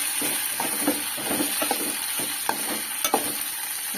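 Chopped tomatoes fry in a pan for an Andhra-style okra pulusu: a steady, close sizzle with occasional scraping and stirring knocks throughout.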